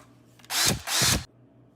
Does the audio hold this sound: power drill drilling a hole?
yes